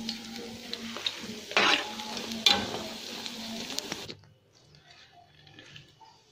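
Zalabia dough balls fry in hot oil, a crackling sizzle with a couple of sharper bursts and clinks that drops away abruptly near the end to a faint hush.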